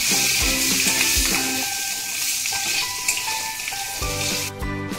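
Green chillies and cumin seeds sizzling in hot oil in a pan, a loud, close crackling fry with bright hiss and scattered pops, steady throughout.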